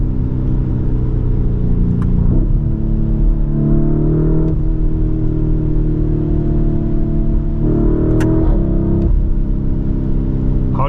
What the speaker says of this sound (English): How do you guys like the sound of this V8 4-liter 666 horsepower beast?